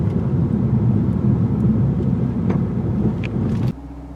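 A 2021 Lexus RC-F Fuji Speedway Edition's V8 drones steadily while driving, a loud, even rumble that drops suddenly near the end.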